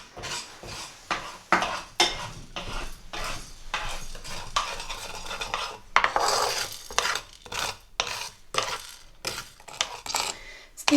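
Cumin seeds roast in a dry pan, stirred and scraped repeatedly with a utensil, producing rhythmic rasping and metallic scrapes in irregular bursts, close and fairly loud, with no talk.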